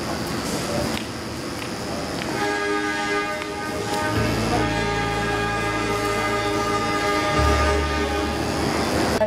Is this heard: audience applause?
no